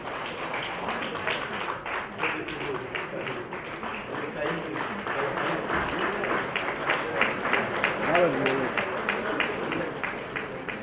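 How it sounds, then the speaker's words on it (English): An audience at a university valedictory ceremony applauds a gold medallion award winner, sustained dense clapping from a large crowd that holds at an even, fairly loud level for about ten seconds, with faint voices underneath. "A big round of applause, ladies and gentlemen."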